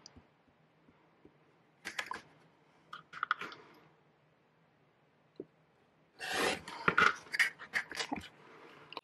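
Quilt fabric is cut into pieces for a broomstick block, with faint clicks and a few short bursts of rustling and cutting scrapes against a quiet background.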